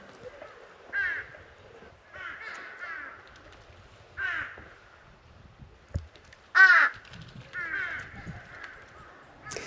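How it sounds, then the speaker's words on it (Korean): Crows caw loudly in harsh, repeated bursts, some single and some in quick pairs, across the 1100 m highland wetland on Hallasan, a Ramsar-listed site. Quiet stretches fall between the calls. "까마귀 소리가 요란하다."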